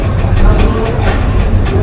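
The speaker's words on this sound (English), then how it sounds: "So we're taking the sub train back now." Steady rumbling shuttle train ride through tunnels in South Korea with a low, continuous rolling roar and faint rhythmic rattling of the carriage, close and loud throughout.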